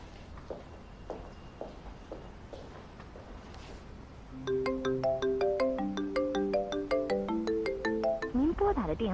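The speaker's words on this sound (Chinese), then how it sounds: "您拨打的电话正在通话中" A phone call ringing through a handset on a dialed number that turns out busy, starting after a stretch of quiet talk and footsteps, then repeating a bright electronic ringback tone pattern loudly and evenly to the end.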